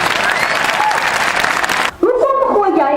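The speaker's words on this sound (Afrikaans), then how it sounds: "Ek dink ons kan gerus vir hulle hande klap gee." A high school audience applauds teachers who agreed to take the ice bucket challenge, with dense, loud clapping for about two seconds before it cuts off and a voice begins speaking.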